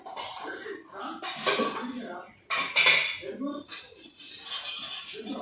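Small metal pot and utensils clatter and clink in a home kitchen while tempering is prepared for a red chilli pickle, loud repeated knocks and scrapes, with some voice sounds mixed in.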